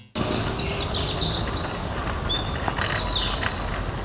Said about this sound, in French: quand les oiseaux commencent à chanter à 5h du matin dehors